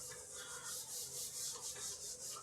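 Steady back-and-forth rubbing as writing is erased from a board, rhythmic swishing strokes, close and fairly quiet with no voices.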